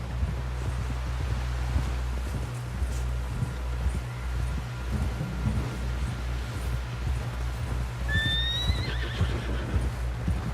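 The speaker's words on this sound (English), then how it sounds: "Someone help John down off this horse" Red Dead Redemption 2 game audio: horse hooves pound in a steady clatter under a low rumble, and a horse whinnies briefly near the end.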